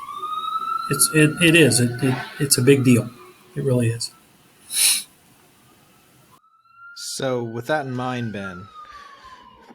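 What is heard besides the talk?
sirens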